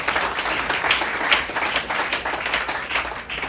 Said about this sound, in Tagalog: Malakas na palakpak para kay Jesus.